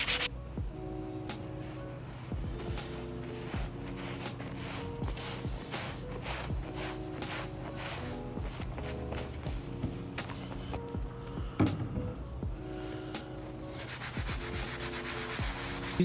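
A brush scrubs steadily across leather during cleaning, a continuous rough rubbing with short back-and-forth strokes, close and fairly loud throughout.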